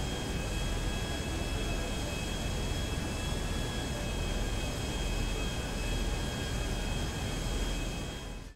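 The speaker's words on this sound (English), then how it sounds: "So that's how to get a plane in GTA 5." A GTA V airplane drones steadily with a loud, continuous engine roar and high tonal whine, unbroken and close, then cuts off abruptly at the end.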